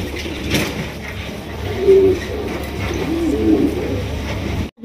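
Fancy pigeons coo close by in soft, low throaty bursts, with a couple of clearer coos in the middle, over a faint background murmur.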